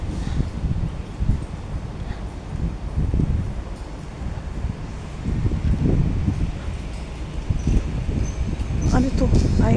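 Wind gusts buffet the microphone outdoors in the afternoon while walking in Wong Tai Sin, Hong Kong, a low rumbling rush that swells and dips continuously, with faint rustling in the background.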